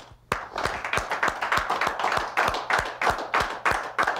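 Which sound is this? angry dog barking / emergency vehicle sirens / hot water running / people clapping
people clapping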